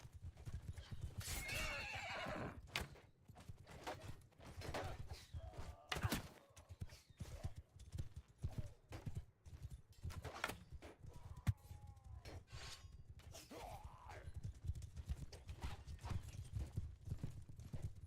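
Horses in the Mount & Blade Warsails battle game, rapid clip-clop of hooves galloping close by, with repeated loud neighs and whinnies rising over the hoofbeats, and faint shouting in the background.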